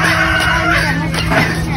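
A loud rooster crow rings out close by, harsh and drawn out over a dense, noisy background of other sounds.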